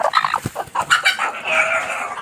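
A pet hen clucks in a quick, close series of short, uneven calls, loud and clear with no voices over it.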